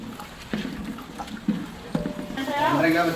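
Water pours steadily into a large pot for biryani, a gurgling stream rising near the end, with people talking over it in Tamil.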